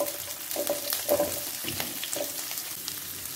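Onions and green chili frying on high flame, crackling sizzle with stirring scrapes and a few louder pops up close, no speech.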